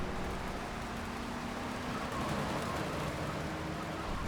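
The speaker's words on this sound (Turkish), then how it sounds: "şehrin yağmuru da bir ayrı güzel." City rain in the video game GTA III Definitive Edition, a faint, steady hiss of rainfall with no distinct drops or other events.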